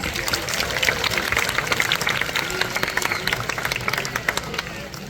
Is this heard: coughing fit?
no